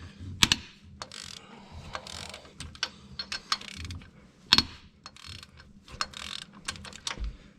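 An electric ratchet spins cylinder head bolts off a 2015 Hemi 5.7 engine in a series of quick, close bursts of whirring and clicking, with short pauses between them.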